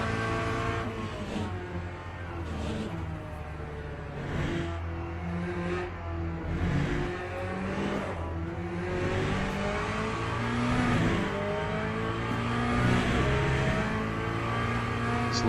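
Race car engines in the Le Mans Ultimate racing game, including the Aston Martin Valkyrie and AMG, roar and rev continuously, pitch rising and falling through gear changes, loud and close with no pauses.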